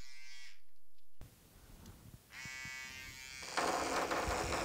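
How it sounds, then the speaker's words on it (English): Electric toothbrush buzzing while resting on a desk, a steady motor hum that starts and stops in short bursts, fairly quiet and close, with no voices. "Background noise from an electric toothbrush resting on a desk."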